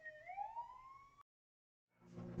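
A police car siren wails loudly and close with a rising, sustained tone, then cuts off abruptly into silence before a different burst of noise starts.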